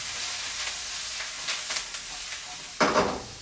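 Vegetables sautéing in a hot pan with fresh thyme, rosemary and a garlic clove, a steady sizzle broken by a few stirring scrapes and a louder burst of frying near the end.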